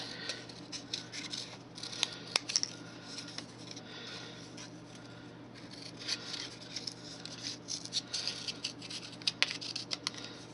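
Scissors cut paper leaves with a run of quiet, crisp snips and small rustles, close and irregular.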